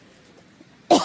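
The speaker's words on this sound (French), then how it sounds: "je tousse depuis hier" A woman in a camping-car gives a single loud, harsh cough, close up, abruptly breaking a quiet room.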